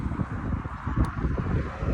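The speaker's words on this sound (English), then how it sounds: "it's really loud up here, very windy" Strong wind roars across a high bridge sidewalk on a coastal Florida bike ride, a steady loud buffeting rumble on the microphone throughout with no pauses.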